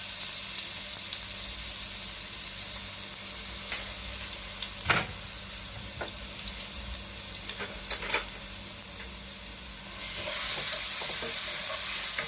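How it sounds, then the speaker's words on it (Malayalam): Spices and ginger garlic paste frying in a pan for Kerala chicken biryani, a steady sizzle with scattered scraping stir strokes and clicks, a louder hiss near the end. "സ്പൈസസ് ഫ്രൈ ചെയ്തതിന് ശേഷം നമുക്ക് ജിഞ്ചർ ഗാർലിക് പേസ്റ്റ് ആഡ് ചെയ്ത് കൊടുക്കാം."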